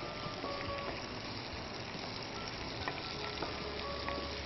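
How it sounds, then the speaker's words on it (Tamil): Sliced bell peppers sizzle and crackle while stir-frying in a pan, a steady close hiss with faint stirring clinks and no speech. "இப்போ இதை நம்ம ஒரு 5 மினிட்ஸ்க்கு நல்லா கொஞ்சம் ஃப்ரை பண்ணிக்கலாம்"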